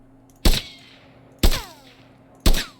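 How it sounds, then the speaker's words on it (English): Three sharp auto rifle shots strike metal in a first-person shooter, each a loud crack with a ringing, pinging ricochet tail that fades over about half a second, spaced roughly one second apart. "So I'll just go with the auto rifle here. So if we hit something that's metal,"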